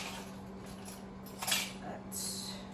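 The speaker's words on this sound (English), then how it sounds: "So many measuring spoons." Metal measuring spoons clink together during holiday baking, a few light bright taps and rattles over a low steady hum, with a louder burst midway and another near the end.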